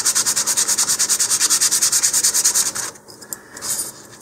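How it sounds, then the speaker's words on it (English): Rapid rhythmic rasping of sandpaper rubbing back and forth on model rocket parts, close and steady, then a brief pause and a few softer strokes. "And then I'm going to sand the faces here."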